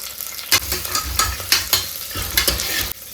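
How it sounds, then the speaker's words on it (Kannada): Onion and green chilies fry in a pan for chicken sambar, with a constant sizzle broken by repeated scraping strokes of a spoon stirring at a steady rhythm, close up. "ಈರುಳ್ಳಿ ಹಾಕಿದ ನಂತರ ಅದು ಫ್ರೈ ಆಗುವಾಗಲೇ ಅದ್ರ ಜೊತೆಗೆ ಎರಡು ಹಸಿ ಮೆಣಸಿನಕಾಯಿ ಕೂಡ ಸೇರಿಸ್ತಾ ಇದ್ದೀನಿ"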